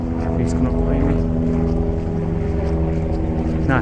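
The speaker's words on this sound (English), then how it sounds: "Helicopter coming up behind me there now." Helicopter approaching from behind during an outdoor hike, a steady low engine and rotor drone held close and loud throughout, with faint wind noise around it.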